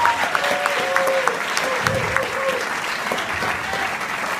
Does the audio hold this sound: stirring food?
no